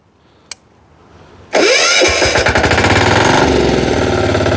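A brief click, then a Motor Sich walk-behind tractor engine abruptly cranks and catches, settling into loud, rapid chugging close by.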